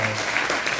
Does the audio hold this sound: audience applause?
yes